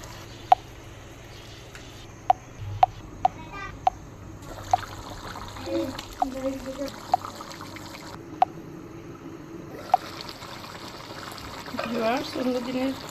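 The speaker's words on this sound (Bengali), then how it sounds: "এই পর্যায়ে আমি কিছুটা পরিমাণ পানি অ্যাড করব" Water pours into a pot of cooking duck curry with a trickling, gurgling rush late on, preceded by sharp intermittent clicks and faint sizzling, while a voice talks over it.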